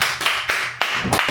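A quick run of hand claps given as applause, about six sharp, close, loud claps in an uneven rhythm, with no talking.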